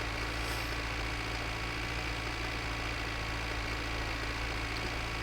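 A tractor engine running in the game My Winter Car, a steady, continuous low mechanical drone with an idling quality, moderately quiet and unchanging throughout with no voices.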